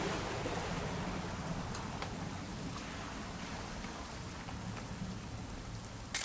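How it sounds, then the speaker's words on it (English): Steady, dense rainfall from the video game What Remains of Edith Finch fills the scene evenly throughout, with a faint low rumble of thunder underneath and no voices. "It's gonna rain the whole weekend,"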